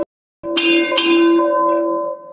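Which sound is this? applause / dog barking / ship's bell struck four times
ship's bell struck four times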